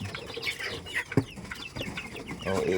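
A pet chicken clucks in short, irregular bursts at close range, with a brief sharper call in the middle and soft background noise throughout.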